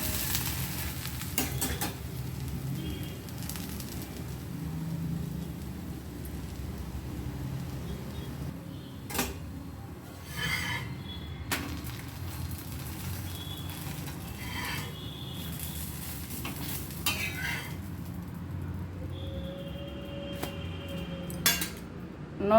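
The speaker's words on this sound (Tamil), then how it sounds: "தோசையை இப்போ திருப்பி போட்டுக்கலாம்" A green gram and raw rice dosa frying in sesame oil on a pan, with a steady low sizzle broken by scrapes and metallic clatter from the spatula as it is flipped over.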